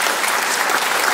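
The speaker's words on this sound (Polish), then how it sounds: "Proszę o duże brawa dla niej" Audience at a senior women's folk ensemble concert in Siedlce, Poland, applauding warmly: a dense, even patter of many hands clapping together, loud and sustained for the whole moment.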